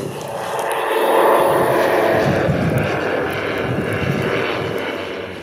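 A propeller airplane drones loudly overhead at an aerodrome, its engine noise swelling and holding steady as it passes close by, with no other sounds.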